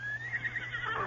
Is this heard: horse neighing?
yes